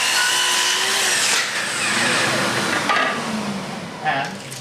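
A powered trim saw cuts an 18-inch trim piece held against the fence, giving a steady whine with a brief rise partway through, heard close up with no talking.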